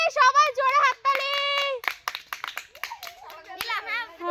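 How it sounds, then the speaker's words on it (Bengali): A group of children claps hands during a party game at home, with scattered quick claps under loud, excited kids' voices and shouting that dominate throughout. "ও হাততালি, সবাই জোরে হাততালি।"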